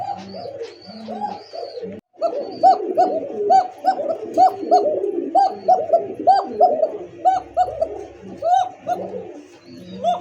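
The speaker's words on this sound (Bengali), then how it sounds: "দেখছেন নর্মালি দুইটা ডাকে, জোড়ার ডাক" A pair of pure Koka pigeons coo over and over in a throaty, rhythmic pattern, close and clear, with faint voices in the background.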